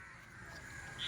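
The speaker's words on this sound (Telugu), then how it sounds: "మొత్తం కాకులు అరుస్తున్నాయి ఇక్కడ." Crows caw at a lakeside resort in Kumarakom, Kerala, one short caw rising faintly near the end over a soft background hum.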